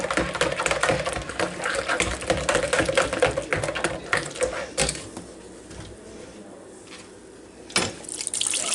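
Cold water poured from a pitcher into a pot holding tea bags while making sweet tea, a continuous splashing gush that thins out into trickles and scattered drips, close and fairly loud.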